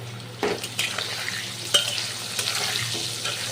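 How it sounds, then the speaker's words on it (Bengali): Potatoes fry in hot white oil in a pan, a soft continuous sizzle with a few sharper crackles and utensil taps, close but moderately quiet. "প্রথমে আলুগুলোকে ভেজে নেব, তেলটা আমার গরমও হয়ে গেছে"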